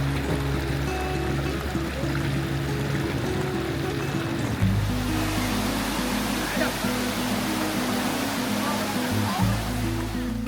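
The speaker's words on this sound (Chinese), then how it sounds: "最后是珍珠滩和珍珠滩瀑布" Pearl Shoal waterfall at Jiuzhaigou, a steady broadband rush of falling water filling the whole clip, with a low tonal hum and voices underneath.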